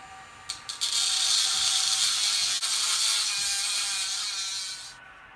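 A power drill whines steadily for several seconds after a couple of quick starts, drilling holes in panels for an antenna switch kit, then winds down and stops.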